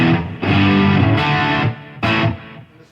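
Electric guitar played through a Marshall DSL15C amp on the clean channel with a distortion pedal, a Gretsch Electromatic Pro Jet two-tone. Loud, close, thick sustained distorted chords, struck three times with a brief fade at the end.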